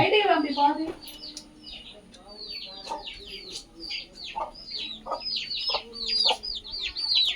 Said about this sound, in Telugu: కోళ్ళు వచ్చినాయి